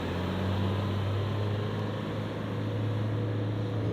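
A 2023 Toyota HiLux SR5 ute reversing at full throttle in power mode, its engine a steady, loud low drone with constant rumble throughout and no voices.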